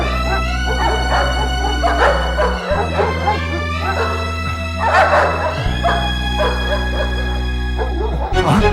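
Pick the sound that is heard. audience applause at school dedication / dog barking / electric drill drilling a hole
dog barking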